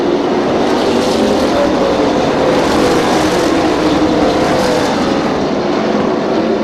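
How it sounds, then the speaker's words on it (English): A limited late model race car engine roars steadily and loudly, its note rising and falling as it pops through the turns, with no talking. "we can just hear that car popping through the turns"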